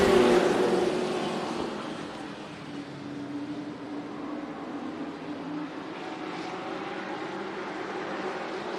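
Thunder trucks racing at Tucson Speedway during NASCAR weekly racing, a loud engine roar that sweeps past nearby and then settles into a steady, more distant drone of engines circling the track.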